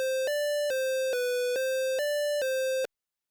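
A dry 8-bit synth line for a trap beat, a bright buzzy square-like tone repeating in short even notes with small pitch steps, no reverb or delay, cutting off abruptly into silence.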